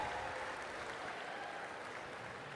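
A crowd at a women's summer league basketball championship game applauds for volunteers and staff, a faint, steady wash of clapping with no break.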